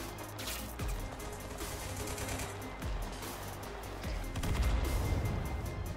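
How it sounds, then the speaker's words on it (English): RPG and gun fire in the video game Total Conflict: Resistance, heard as a continuous rumbling battle bed with a few heavier booming hits standing out, fairly close and dense. "Ooh, they are firing RPGs at me."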